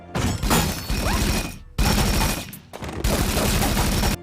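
Loud gunfire from the film I, Robot as bullets destroy a robot: three dense, close bursts of rapid shots with shattering debris, separated by short gaps.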